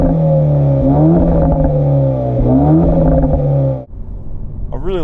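A 2019 Renault Megane RS Cup 280 engine pulls hard through the mid-range, its loud droning note rising in pitch twice before cutting off abruptly, then a brief rev follows.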